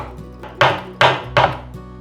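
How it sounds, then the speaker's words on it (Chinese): A knife chops enoki mushrooms on a cutting board in three distinct, evenly spaced strokes, each a sharp close thud followed by a short rasp, with nothing else heard. "把金针菇切碎"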